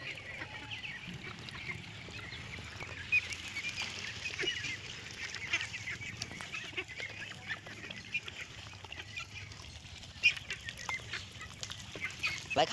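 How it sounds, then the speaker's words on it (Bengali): A flock of Pekin Star 13 ducks gathers at a feed tub, giving faint, scattered quacks and honks over a low murmur of background noise, with no talk. "এই দেখুন সব হাঁস চলে আসছে সাথে সাথে"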